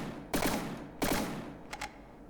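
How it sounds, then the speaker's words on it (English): Cannon fire from a From the Depths vessel in two paired volleys of loud bursts, followed by a softer quick double report, all close and without talk. "For me, it's firing the guns in pairs."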